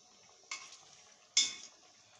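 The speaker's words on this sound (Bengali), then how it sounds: "একটু নেড়ে চেড়ে নেব এবার।" A utensil stirring butter chicken pieces in a pan, giving two sharp scraping clatters about a second apart over a faint, constant background hiss.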